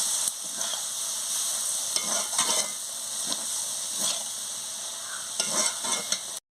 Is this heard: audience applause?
no